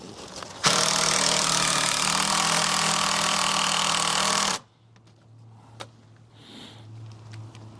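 Power drill driving a toe screw into a timber shed ramp: a loud, steady whirring buzz starts abruptly and runs about four seconds, then stops, leaving a low hum and a few faint knocks.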